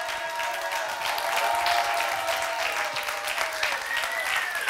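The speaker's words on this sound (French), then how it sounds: "on peut l'applaudir très fort" Loud, dense applause from a comedy-show audience greeting comedian Alex Fredo onstage at the Catskills Comedy event, a steady wash of clapping that holds throughout without a break.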